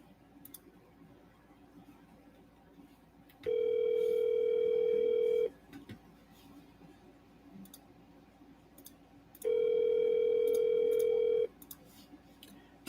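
Telephone ringback heard while calling a customer, two long steady tones about two seconds each separated by a pause, over faint room noise.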